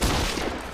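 Sustained burst of MG42 machine gun fire in the WWII strategy game Men of War, loud, dense and continuous throughout a short span with no pauses between rounds.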